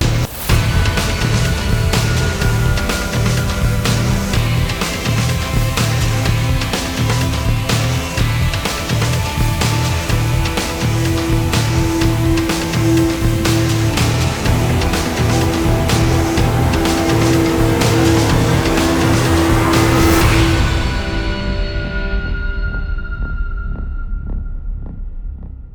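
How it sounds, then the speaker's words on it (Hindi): A TVS Apache RTR 310 motorcycle rides on a race circuit in Thailand, its engine droning loud and steady with a throbbing hum and rising pitch, then fading near the end. "अब चलते हैं सीधा राइड पर, बाइक को चलाते हैं"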